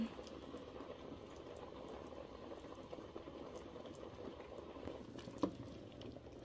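A pot of cabbage nilaga simmers at a gentle boil, a steady soft bubbling and burbling with faint pops and one brief louder clink near the end, quiet and close with no voices.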